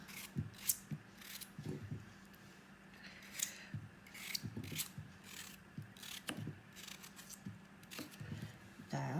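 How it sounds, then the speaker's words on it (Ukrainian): A knife cuts through potatoes on a board, giving a series of crisp, irregular chops and crunches close up, at moderate volume with short pauses between strokes; no talking. "І нарізаємо другу картоплю так само"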